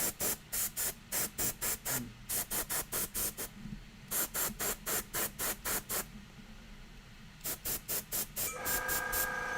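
Short, loud bursts of spray paint hiss in quick, regular pulses as an airbrush or spray can coats miniature salamander models. The bursts come in several grouped runs with brief pauses between them, and a faint tone joins near the end.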